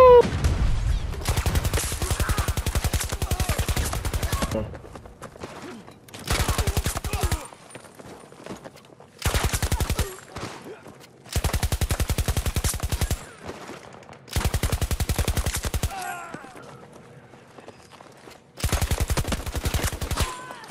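An M240B light machine gun in Battlefield 2042 fires in long sustained bursts, about six separate strings with brief pauses between them, loud and close.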